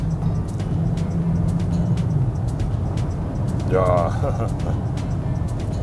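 A Renault Grand Koleos SUV in sport mode accelerates on a highway, its steady engine and road drone filling the cabin as someone talks briefly over it.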